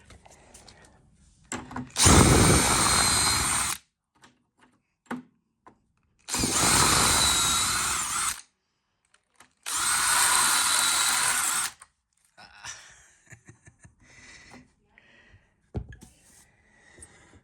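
Power drill driving screws back into a metal door's hinge, three loud whirring bursts of about two seconds each, separated by quiet handling clicks.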